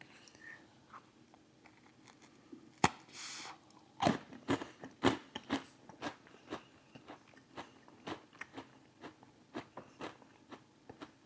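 Close, loud crunching bites into a hard cookie with a firm cream filling, followed by a long run of steady crunchy chewing with no talking.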